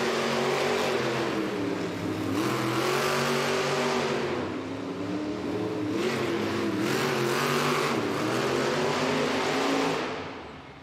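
The monster trucks Sparkle Smash and Grave Digger race at a Monster Jam stadium event in Louisville, Kentucky, their engines roaring in a loud, sustained revving drone that rises and falls before easing off at the end.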